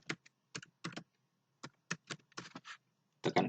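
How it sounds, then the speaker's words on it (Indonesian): Quiet, uneven keystrokes tapped on a computer keyboard, a few scattered clicks followed by a quicker burst near the end, with no talking. "Kemudian pada bagian pencarian kita ketik"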